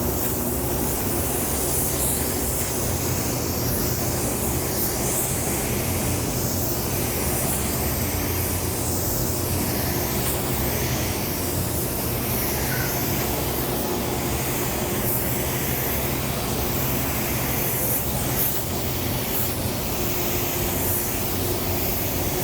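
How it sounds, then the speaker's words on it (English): A spray gun sprays white paint in a running paint booth, hissing steadily and loudly for the whole stretch, a continuous airy rush with a low ventilation hum beneath it. "I'm going to spray my first coat of white."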